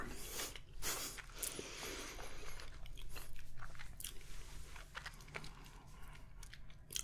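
A crunchy sugar bar is bitten and chewed close up, with sharp crackling crunches at the start giving way to repeated softer chewing crunches, quiet and intimate with no talk.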